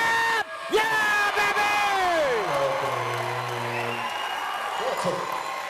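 Basketball arena crowd at a men's college game roaring and cheering after a steal and slam, loud sustained whoops and yells swelling under an excited commentator's voice throughout.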